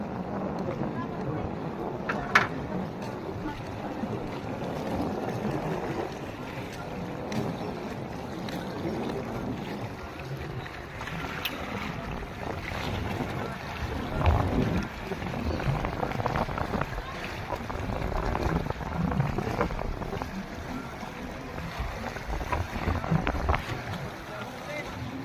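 Boats knock and rumble at Aroroy pier amid wind and lapping water, with indistinct voices and occasional thuds in the background.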